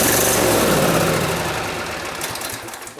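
A Husqvarna riding mower engine, one that won't stay running, runs steadily with a loud, rough mid-pitched drone, close by and alone, easing slightly in level toward the end.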